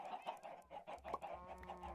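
Chickens in the Minecraft Tekxit2 modpack cluck in a quick run of short, clipped calls at moderate volume, with a low hum underneath and no speech.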